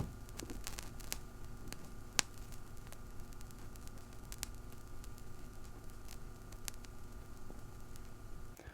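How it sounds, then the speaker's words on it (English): A vinyl record's run-in groove before cleaning plays as a faint steady surface hiss and low rumble, scattered with frequent sharp pops and clicks, one especially loud crack standing out. "So here is the sound of the run-in groove before we cleaned it."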